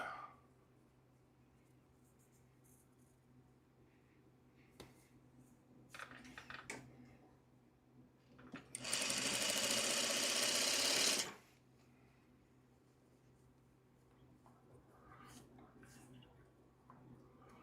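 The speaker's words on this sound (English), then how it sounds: "Sewing it across to make our little Dresden point." A sewing machine stitches fabric across a Dresden quilt point in a short, loud burst of rapid whirring, with quiet handling clicks and rustles before and after.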